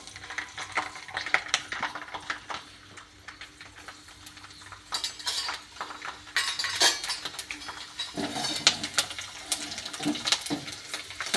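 Garlic going into a pan for idli chutney, with scattered clinks of a spoon against the pan and soft stirring and frying noises, close and moderately loud, no talk.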